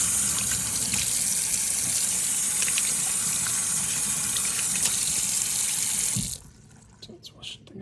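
Tap water gushes steadily into a sink during handwashing in a home kitchen, loud and continuous, then cuts off abruptly near the end, leaving quiet room tone and faint handling.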